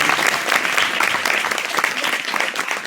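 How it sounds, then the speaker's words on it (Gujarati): Applause from an audience welcoming a guest with a bouquet at a school tree-planting function, steady dense clapping filling the whole stretch at a loud, even level. "તાળીઓના ગડગડાટથી આપણે વધાવીએ અમને"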